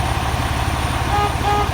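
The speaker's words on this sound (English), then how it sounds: "My city horn works." A truck horn honks in a steady continuous blast over a loud idling engine rumble, close by.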